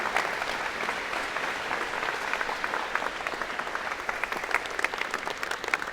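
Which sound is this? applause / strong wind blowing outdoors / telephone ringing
applause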